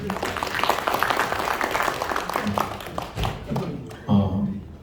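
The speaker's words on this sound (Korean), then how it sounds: "박수 부탁드립니다." Applause at a ceremony marking an independence declaration anniversary, scattered clapping from the audience that tapers off, with some voices mixed in near the end.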